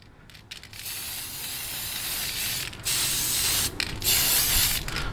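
A Tamiya Olive Green aerosol can sprays paint over a bright orange model in several hissing bursts of a second or so, with short pauses between them, close to the microphone.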